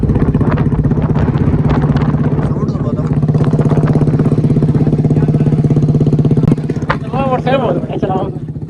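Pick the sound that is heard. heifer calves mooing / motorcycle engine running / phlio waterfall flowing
motorcycle engine running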